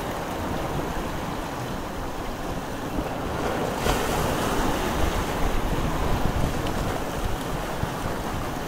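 Surf rolls steadily onto a beach in a continuous wash, with wind buffeting the microphone and a slightly louder surge midway; no voices.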